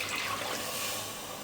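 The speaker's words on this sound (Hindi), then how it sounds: "अब हम इसमें तकरीबन 1 गिलास पानी शामिल कर देंगे" About a glass of water poured into chicken masala in a pressure cooker, a continuous soft splashing rush that tapers slightly toward the end, with no talking.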